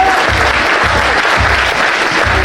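A church congregation claps steadily during a worship service, dense rhythmic applause filling the space loudly and continuously with no speech over it.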